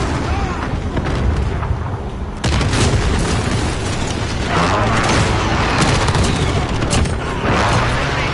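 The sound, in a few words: airstrike explosions in a Call of Duty–style video game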